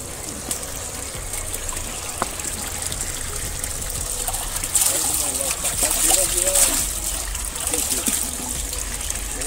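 Water running from a spring fountain, a continuous gushing trickle heard close up, with a louder splashing stretch midway as a glass or cup is filled, while someone talks over it.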